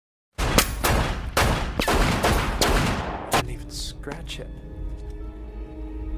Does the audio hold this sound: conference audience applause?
no